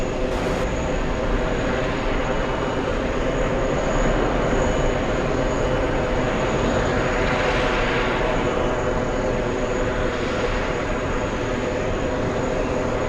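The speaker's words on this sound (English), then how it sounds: "We have a big one taking off right now. We have Virgin Atlantic flying to Heathrow." Virgin Atlantic widebody airliner taking off at JFK bound for Heathrow, a loud, continuous broadband jet roar that holds steady from start to finish with no voices.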